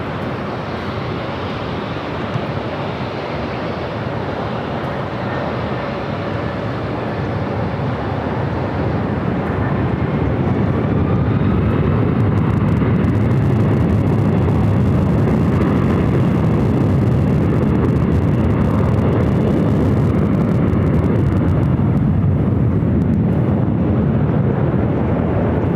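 An airliner takes off from runway 24 left at LAX, a broad, steady jet roar that builds and swells over the span, loud and sustained with wind-like rumble and no talk.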